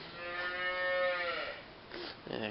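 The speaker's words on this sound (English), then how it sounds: "cow in the background." A cow moos in the background on a farm while an IH disc harrow is being repaired, one long drawn-out low moo that fades, with faint workshop clatter after it.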